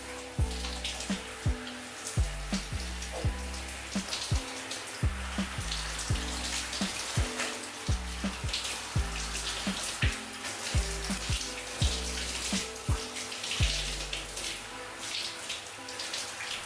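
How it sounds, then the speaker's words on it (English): Tap water runs steadily over long, type 4B/4C natural hair while shampoo is rinsed out at a sink, a continuous close splashing hiss with no talking. "The water running through my hair is so therapeutic."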